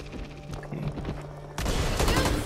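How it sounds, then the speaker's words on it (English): Rapid gunfire in the zombie shooter Back 4 Blood as players fire at a gas tank, a dense run of shots that grows louder and harsher halfway through, with no clear talk over it. "I'm gonna open this and someone shoot this gas tank"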